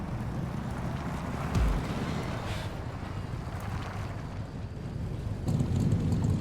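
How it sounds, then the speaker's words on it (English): A car engine in the driving game Pacific Drive drones loudly and continuously, a low rumbling hum mixed with rushing wind-like noise and a few bumps, with no talking. "that engine's running loud"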